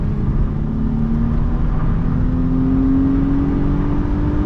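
A 2006 Mercedes CLK350 with a 272 hp engine pulls hard at full throttle, its steady engine drone and slowly climbing tone heard from inside the cabin over loud road rumble.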